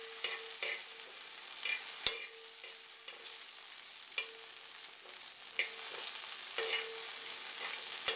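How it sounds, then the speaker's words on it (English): Green chillies sizzle and blister in a hot pan, a steady frying hiss broken by light stirring clicks and scrapes, close and moderately loud, with no one speaking. "I'm just sauteing the green chilies so that it has developed some blisters."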